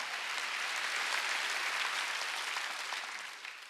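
A church congregation at a Sunday worship service claps together in a steady, even wash of many hands, moderately distant and uninterrupted, easing slightly toward the end.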